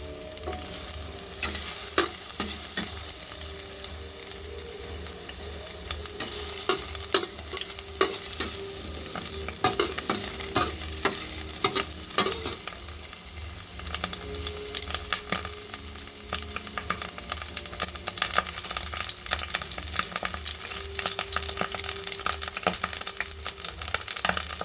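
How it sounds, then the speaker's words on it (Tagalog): Ginger sizzling and frying in a hot pan for tuna liver adobo cooked in coconut milk, a steady loud crackle with scraping stirring throughout, close up and without talk. "Ayan, maggisa na tayo. Unahin natin yung luya."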